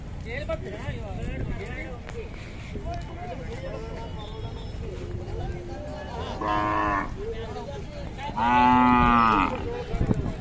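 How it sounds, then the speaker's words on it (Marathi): A young Khillar bull moos twice, loud and drawn out, against a steady murmur of people talking nearby. "त्या बैलाचा हा खोंड आहे."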